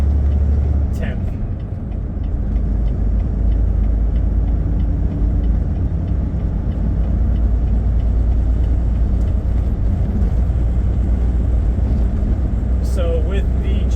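Heavy 10-speed semitruck climbing through its gears with the Jake brake off, a loud steady low diesel drone filling the whole stretch with slight shifts in pitch, a voice talking over it.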